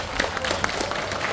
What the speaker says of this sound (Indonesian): Tepuk tangan untuk Mas Juna.